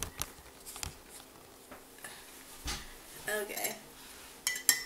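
A spoon stirring and mixing tea in a cup, giving light clinks and scraping taps in small irregular bursts, with a brief spoken word at one point.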